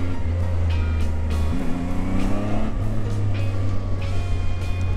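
A Zontes 703 F Adventure motorcycle engine rumbles steadily nearby, its low tone rising and falling as the throttle is blipped mid-way, with no talk over it.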